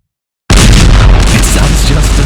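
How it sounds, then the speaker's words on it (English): Several custom-coded bombs explode in Minecraft, a dense, loud, continuous burst of booms that starts abruptly after a short silence and rumbles on without a break. "See, they all exploded and came out."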